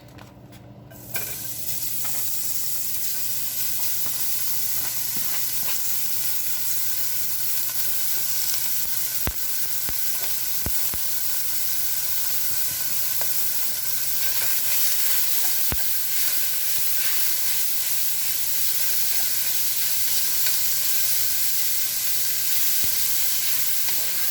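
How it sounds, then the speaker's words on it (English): Beef sizzles in a heated pot on the stove, a steady loud hiss of frying that runs unbroken throughout, with a few faint clicks and stirring touches. "I'm heating up my pot. And we're going to get this beef in here."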